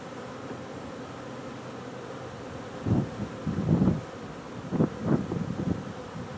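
Honey bees hum in a steady low drone with a few louder buzzing swells as they pass close by, set against soft outdoor wind noise.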